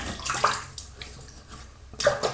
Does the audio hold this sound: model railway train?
no